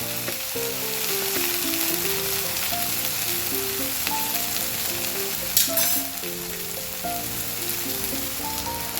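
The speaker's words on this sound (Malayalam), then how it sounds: "ഇത് നമുക്ക് തേങ്ങാപ്പാൽ ഒഴിച്ച് കൊടുക്കാം." Paneer curry sizzles in a pan after coconut milk is poured in, a dense close frying crackle and hiss that continues steadily with a brief stir-like clatter midway.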